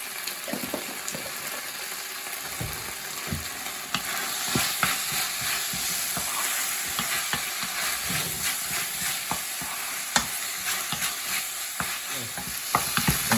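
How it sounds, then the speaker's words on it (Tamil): Tomatoes with turmeric sauté in a pan for a chicken curry, giving a continuous close sizzle with frequent scraping and tapping strokes of a stirring spoon. "தக்காளி கொஞ்சம் நல்லா வதங்கட்டும்."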